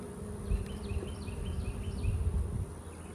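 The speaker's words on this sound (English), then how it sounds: "These little bees seem like they're kind of a little upset" Honeybees buzz around a beehive outdoors on a windy day, a steady close hum of many insects with faint birdsong chirping above and gusty wind noise underneath.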